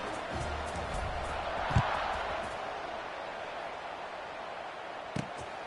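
A stadium crowd buzzes in a college football video game, a steady hiss-like roar of many distant voices after a score, with a couple of brief thuds, fairly faint and constant.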